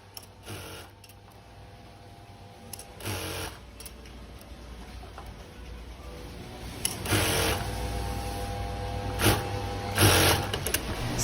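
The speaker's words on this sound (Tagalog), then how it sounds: "So I have here a video showing the double needle sewing machine." A double needle sewing machine stitches in bursts of steady mechanical whirring that start and stop several times, with a constant low motor hum underneath and no talking.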